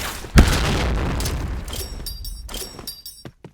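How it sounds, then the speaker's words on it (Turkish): A grenade blast in the Point Blank shooter game: one sharp, loud boom with a shattering crack, followed by a decaying rumble and a few smaller pops and debris clatters. "Bu arada arkadaşlar bu bombayı kullanmayın."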